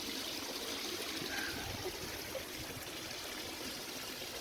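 Water trickles and pours steadily as a container is topped up, a soft continuous splashing stream heard up close with no talk.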